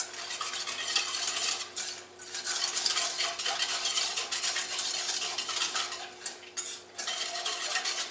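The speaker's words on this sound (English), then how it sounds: "I'm going to get my whisk. I'm just going to start to get that cornstarch mixed in" A whisk stirs cornstarch into sugar in a bowl, making a continuous close scraping and rustling with short pauses between strokes and no talking.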